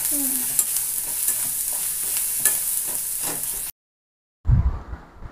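Turmeric fries in hot oil for a homemade mango pickle, a loud, close sizzle with stirring scrapes that cuts off abruptly, then a brief, muffled burst after a moment of silence.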